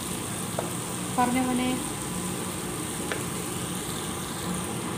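Onions and capsicum sautéing in a pan for honey chilli potato, a soft steady sizzle with a brief scrape of stirring, under a voice speaking Malayalam.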